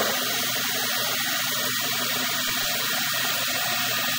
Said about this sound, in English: I do have the sink running also.